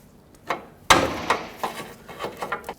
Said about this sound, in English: I'm going to use a pry bar and just pry the axle straight out